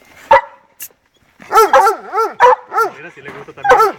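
A dog yips and whines in a rapid series of high, wavering vocalizations, close and fairly loud, with a sharp bark at the start.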